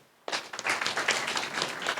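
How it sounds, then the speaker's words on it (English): Audience applause at a Mau Forest conservation program launch, where an MP invites the crowd to clap. Steady, dense clapping begins abruptly after a quiet moment and carries on evenly, with no speech over it. "Let's clap for the program itself."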